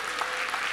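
A comedy club audience claps in a brief, dense burst of applause, steady and loud throughout the short moment.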